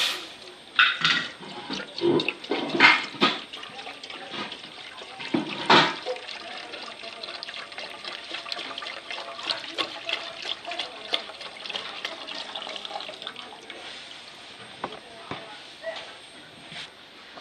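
Milk pouring into a cooking pot for kheer, a steady liquid splash and trickle that is loudest at the start and then thins to a softer stream, with a voice speaking over it.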